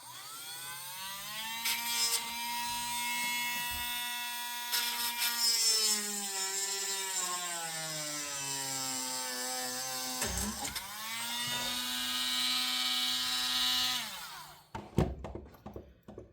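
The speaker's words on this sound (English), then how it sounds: "Gonna drill this out a little bit." A power drill bores out an Ace 38mm lock, a steady whining motor tone that shifts pitch as the bit loads and frees, pausing briefly once before running on, then stopping with a few clicks and clatters.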